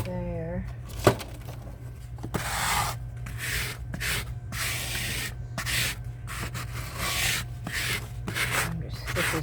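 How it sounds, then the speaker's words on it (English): A fingernail file used as a scraper rasps across clay in repeated short strokes, close and fairly loud over a steady low hum, with a brief sharp knock near the start. "This is a fingernail file, but I'm using it as a scraper. To clean the clay up."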